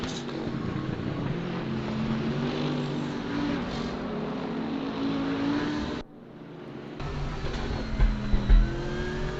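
GT3 race cars at the Lausitzring in a racing game drone loudly into turn 6, engines humming and shifting, then briefly dropping out before returning with bursts of revving.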